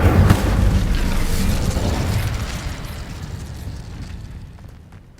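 Incendio fire spell cast in Hogwarts Legacy, a loud whooshing burst of flame that rolls out and slowly fades over several seconds, close and alone.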